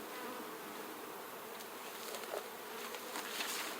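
Honeybees drone around a horizontal hive, a soft steady outdoor buzz that stays faint and continuous, with an occasional louder pass from a nearby bee.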